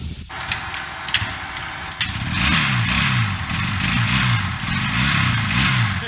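A motorcycle engine cranks and catches, then settles into a steady, loud idle with a rough throbbing rumble close by.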